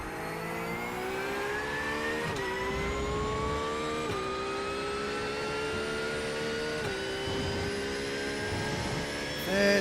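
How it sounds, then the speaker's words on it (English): Racing game car at Silverstone held in fourth gear, its engine screaming at high revs in a steady loud whine with brief dips as it bounces off the limiter. "Why am I in 4th gear? Blowing up the engine."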